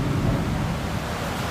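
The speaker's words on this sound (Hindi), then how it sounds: "यहाँ हमारे यहाँ भी बहुत तेज़ी से बारिश हो रही है" Heavy rain pours down as a dense, continuous roar with a deep rumbling low end, steady and loud throughout the short stretch, with no voices.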